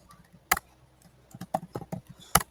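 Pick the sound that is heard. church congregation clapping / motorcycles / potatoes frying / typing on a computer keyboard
typing on a computer keyboard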